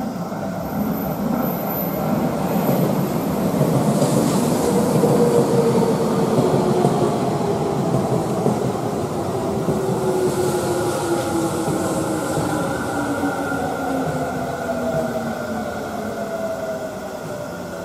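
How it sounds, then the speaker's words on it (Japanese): A Seibu Haijima Line train, decorated with a Gudetama wrap, runs through Tamagawajosui station with a loud, steady rumble and a rising electric whine that holds close by throughout. "この電車は終点小平で各駅停車西武新宿行き"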